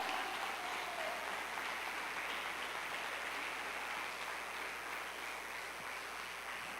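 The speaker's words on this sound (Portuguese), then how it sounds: "Ele quer que você aplaude o nome de Jesus agora." A church congregation applauding, a steady, fairly faint wash of clapping that fills the whole stretch evenly without voices.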